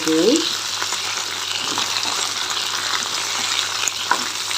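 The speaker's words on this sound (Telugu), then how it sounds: "బాగా మంచిగా కలుపుతూ వేపుకోవాలి" Okra frying in a pan for a spicy onion dish, a steady broadband sizzle that runs continuously with faint scrapes of stirring, close and fairly loud, no voices.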